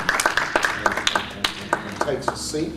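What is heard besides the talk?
audience applause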